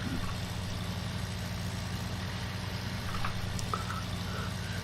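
A farm tractor engine hums steadily at low revs while hauling a partly full grain load home from a combine, a continuous mid-distance drone with no speech over it.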